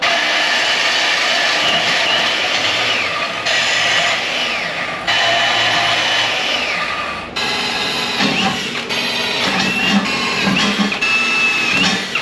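A portable band saw cuts metal in a fabrication shop, giving a steady whining, grinding drone in several long passes. Breaks and shifts in pitch mark changes between cuts.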